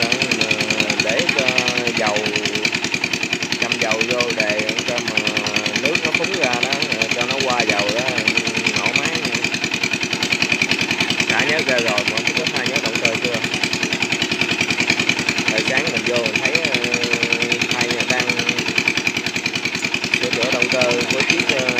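A Komatsu excavator's diesel engine runs after an oil change, a loud, steady close-up clatter throughout, with someone talking over it.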